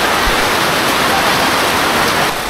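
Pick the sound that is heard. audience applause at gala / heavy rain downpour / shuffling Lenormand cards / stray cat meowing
heavy rain downpour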